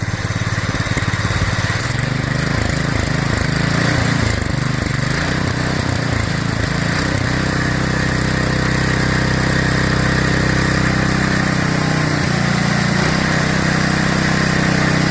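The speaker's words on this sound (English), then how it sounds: "John, give it a couple of throttles." A lawn tractor engine converted to run on propane and fitted to a go-kart revs loudly and close by. Several throttle blips rise and fall over a rough, constant mechanical drone, with no talking.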